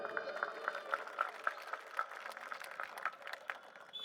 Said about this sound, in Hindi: जोरदार तालियां अपने लिए बजा लीजिए आप